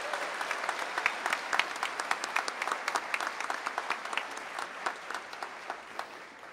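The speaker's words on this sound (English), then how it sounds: "Help recognize their efforts by giving them a round of applause." Applause at an evening university commencement ceremony: many hands clapping steadily with distinct individual claps popping through, sustained and moderately loud before tapering slightly at the end.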